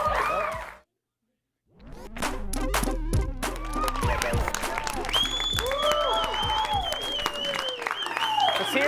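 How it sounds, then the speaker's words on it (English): A studio audience applauds and cheers loudly after a short silence, clapping dense and energetic with voices mixed in and whoops rising over the crowd. "Oh, we got some more applause from that one."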